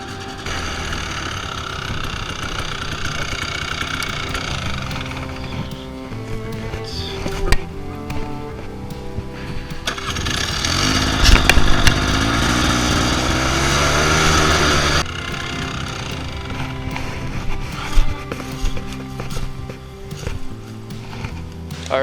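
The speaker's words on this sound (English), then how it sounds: "so I'm gonna hop on the four-wheeler" A four-wheeler ATV engine runs steadily at close range, its low harmonic drone rising and falling as it revs, with a stretch of louder, rougher running in the middle.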